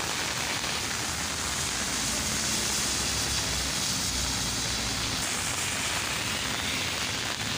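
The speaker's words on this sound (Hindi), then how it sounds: "अच्छी खासी तेज़ बारिश और इसने अभी तक सांस भी नहीं लिया, मसलसल लगी हुई है।" Heavy rain pours steadily and without a break in Taxila, a dense, even hiss that fills the whole stretch with no voices over it.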